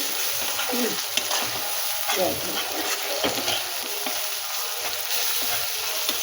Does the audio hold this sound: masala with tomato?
yes